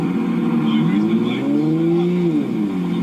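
A Toyota Supra engine revs, its loud, nearby note climbing and falling in pitch several times, with some voices in the background.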